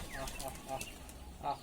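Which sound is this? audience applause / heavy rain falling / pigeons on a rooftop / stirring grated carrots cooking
pigeons on a rooftop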